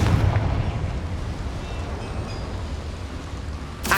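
Confringo fire spell in Hogwarts Legacy, a rumbling, roaring blast that sustains loud and low throughout, with a fresh sharp burst at the very end.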